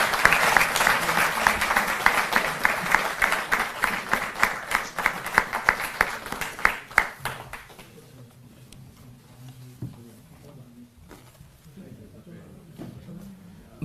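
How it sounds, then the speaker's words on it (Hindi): A large audience at a government event in Delhi gives sustained, dense applause that fades out after about eight seconds, leaving scattered claps and low murmuring in the hall. "जोरदार तालियां"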